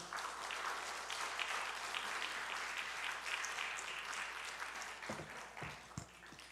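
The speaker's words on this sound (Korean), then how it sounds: "우리 목사님 박수로 환영하도록 하겠습니다" A church congregation applauds to welcome the pastor at a Sunday afternoon service, steady massed clapping that holds for several seconds before fading, with a few louder separate claps near the end.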